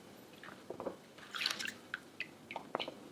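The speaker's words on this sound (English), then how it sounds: "Dip 2 sheets of rice paper in water." Rice paper sheets dipped in water drip and squish softly, with scattered small wet drips and splashes spread across a few seconds in a quiet kitchen.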